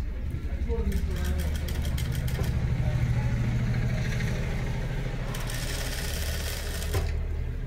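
A sewing machine stitching the lining of a kurti dress whirs in a continuous rapid mechanical hum, close by, with short bursts of higher clatter and someone talking over it.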